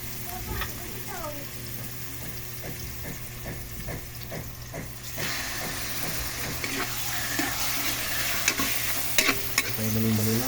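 Chicken liver fries and sizzles in a pan for adobong sitaw, a steady crackling hiss with repeated stirring scrapes, and a voice speaks faintly in the background.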